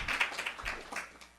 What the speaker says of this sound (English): A round of applause for her too.